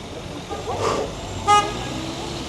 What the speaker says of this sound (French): Tout le monde klaxonne.